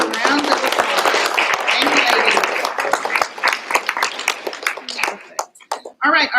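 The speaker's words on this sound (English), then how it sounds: "let's give them another round of applause" An audience at a school board meeting breaks into dense applause that holds for a few seconds, then thins to scattered claps mixed with nearby voices.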